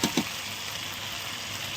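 Mutton frying and being stirred in a pan for kosha, a soft continuous sizzle opening with two quick stirring scrapes, with no talk.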